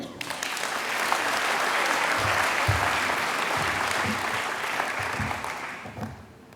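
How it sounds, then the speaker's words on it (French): A crowd at a New Year's wishes ceremony in Beuvry-la-Forêt applauds steadily for several seconds, a full, even wash of clapping that slowly tapers off toward the end. "On peut applaudir."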